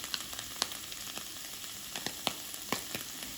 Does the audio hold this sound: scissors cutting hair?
no